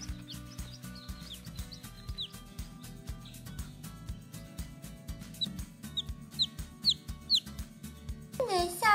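Porcelain d'Uccle bantam chickens cluck and chirp nearby over a busy background with steady low hum and scattered tapping, calls repeating through the clip and growing louder toward the end.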